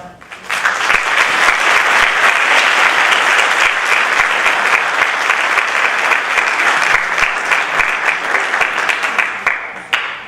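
Audience at a Rocky Point Board of Education meeting breaks into loud, sustained applause that holds steady for about ten seconds, then cuts off abruptly near the end.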